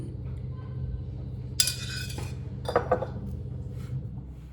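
A spoon scrapes and clinks against a pan while atta, semolina and ghee are mixed for jaggery laddoos, making a few sharp metallic knocks over a low background hum.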